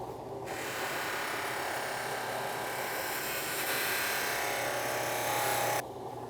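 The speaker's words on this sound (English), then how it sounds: "This is just where the buffing wheel lifts the tape off, the glue, but it's just polishing an already mirrored finish" A buffing wheel spins against the edge of a rifle's ground-to-fit recoil pad, giving a steady, close whirring drone with a brighter grinding hiss while the edge is pressed to it, stopping abruptly near the end.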